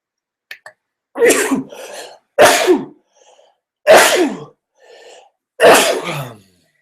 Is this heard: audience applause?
no